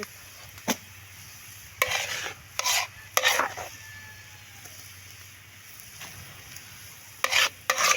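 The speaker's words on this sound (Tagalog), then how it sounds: "Kaya halo muna natin." Pansit noodles are stirred in a pan with a utensil, giving several short scraping bursts of a few seconds each over a faint steady background hum.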